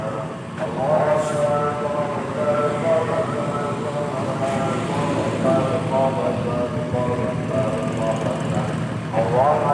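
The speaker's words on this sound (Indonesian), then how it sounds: "Ini bus kita ini." An ANS intercity bus idles at a roadside stop in Alang Lebar, Palembang, its steady low engine rumble running throughout, with people talking over it.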